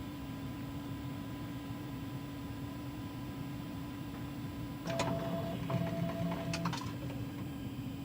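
A printer running a purge cycle gives off a steady mechanical hum and whir, with a few faint clicks and short electronic tones toward the end, and no speech.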